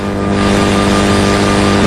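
Jet engines of a Tupolev Tu-144LL supersonic airliner roar at full takeoff power, a loud, steady, dense drone with strong low tones filling the whole stretch.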